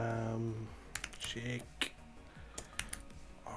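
Rapid clicking on a computer keyboard rattles in quick uneven bursts close to the microphone, while someone talks over it.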